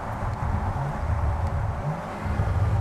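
Morgan Supersport with a 3-litre turbocharged BMW engine of 335 horsepower, its steady mid-low engine drone rising and falling slightly with revs, close and continuous throughout with no talking.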